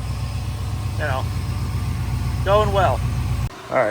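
An engine idles steadily with a radiator fan whirring on a test day by a garage, as a low, even drone that runs throughout while people talk briefly over it.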